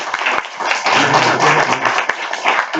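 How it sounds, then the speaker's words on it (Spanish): Seminar audience applauding at the end of a session, a brisk crowd of hands clapping close and loud, with sharp individual claps at the start and trailing off. "pido un aplauso para los que..."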